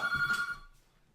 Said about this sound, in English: apologies for the phone going off